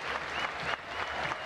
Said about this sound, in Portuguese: Ali o Fabiano, olha, sendo aplaudido, o time do Palmeiras